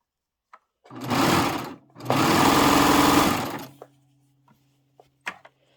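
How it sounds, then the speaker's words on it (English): A serger sewing machine trims and finishes a fabric edge for a pillow back in two loud, steady whirring runs, briefly pausing between them, followed by faint clicks and a low hum. "the serger is cutting and finishing at the same time"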